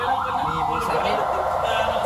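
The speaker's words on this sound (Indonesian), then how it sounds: "misal jalan tuh ramai, entah macet entah apa, maka yang sirene yang kayak ini" An emergency vehicle siren wails in a steady rising and falling pattern, moderately loud and continuous, with faint voices in the background.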